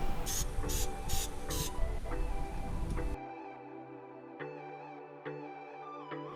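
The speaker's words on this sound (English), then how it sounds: "I'm gonna just spray these chrome pieces." Spray paint hisses in four short bursts onto chrome pieces from a Holden Colorado bullbar being installed, up close and fairly loud, before cutting to a quieter stretch of faint mechanical ticking.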